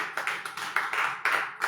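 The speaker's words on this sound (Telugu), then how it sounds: "చప్పట్లు కూడా ఒకసారి" A church congregation at Sunday worship breaks into a short burst of clapping, several uneven rounds of claps, moderately close.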